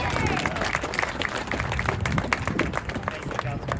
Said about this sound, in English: Jesse from Public Works, please join me in giving him a round of applause.